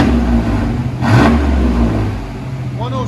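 A 1995 GMC Sierra with a 4.3L V6 and dual straight-pipe exhaust revving close by, a loud steady engine roar that swells briefly and holds, with people talking nearby.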